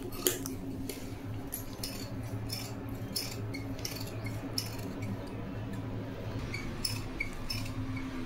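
Scissors chop through thick blouse fabric in a steady series of crisp snips over a constant low background hum, with no talking.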